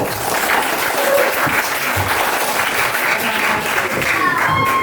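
A classroom of students clapping hands together, a loud, dense burst of applause lasting several seconds with voices mixed in.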